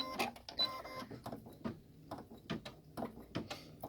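Close up, an embroidery machine stitches a back-and-forth bean stitch tack down on a zip splash bag, its needle tapping in quick, uneven mechanical clicks and thumps with no talking.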